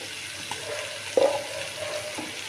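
Food stirred and fried in a pan after salt is added, a faint steady sizzle with soft scraping stir strokes and one brief louder clatter of the spoon.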